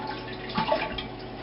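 Water runs from the small tap on top of a Japanese toilet tank after a flush, a soft, close trickle with a few drips over a low hiss.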